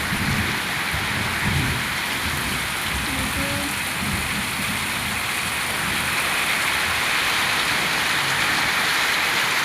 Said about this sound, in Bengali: দেখুন আপনারা তো দেখতে কীরকম বৃষ্টি হচ্ছে, মেঘও ডাকছে।